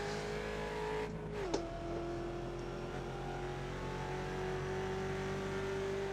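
Mustang race car engine in the iRacing video game, a steady mid-pitched drone that briefly dips and rises again as the throttle lifts, with a short click partway through, moderately quiet throughout.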